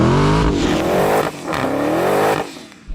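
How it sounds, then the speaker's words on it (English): A Dodge Challenger Demon doing a burnout to warm its tyres, the engine roaring loud and close in long revving surges with brief dips between, tyre noise mixed into the blare. "Warming the tyres."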